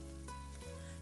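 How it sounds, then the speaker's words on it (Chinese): Minced pork with scallion, garlic and diced red pepper sizzles as it is stir-fried in oil left from pan-frying tofu, a steady close hiss with a brief stirring scrape. "再把葱、蒜、红椒丁加进来翻炒"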